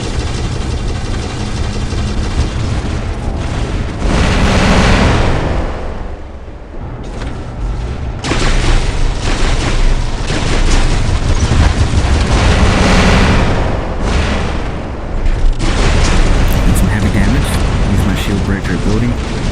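Rockets bursting against energy shields in War Robots battle, loud rumbling explosions and heavy booms rolling almost continuously over a low mechanical drone, with brief lulls between barrages.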